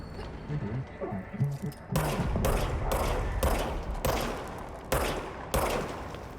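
Service weapon shots in the video game Control: after someone talks briefly, a series of about eight loud, evenly spaced gunshots rings out, each with a sharp attack and short echoing tail.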